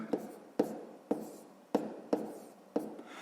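A pen taps and scratches out numbers on paper during a sixth-grade math exercise, six quick separate strokes in a loose rhythm, close and quiet, with no voices.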